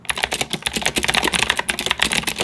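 Rapid, dense clicky typing on a budget tenkeyless mechanical keyboard with Kailh Blue switches and ABS keycaps, loud and close with continuous keystrokes and no talking.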